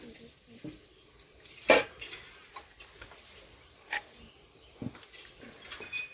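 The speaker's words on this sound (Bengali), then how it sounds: "এখন দিয়ে দিচ্ছি একটু ঢাকনা, দেখি কত দূর হলো, তুলে নিচ্ছি ঢাকনা।" A lid lifted off a cooking pot of tilapia fish in mustard paste makes a few sharp metallic clinks and taps, one clearly louder than the rest, with a voice speaking between them.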